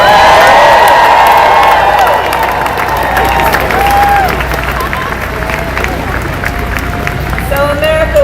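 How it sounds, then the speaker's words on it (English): A large crowd at a campaign rally applauds and cheers for first-time voters, loud and sustained clapping and whooping that swells at first and then settles into a dense, continuous roar. "Can we all applaud our first-time voters?"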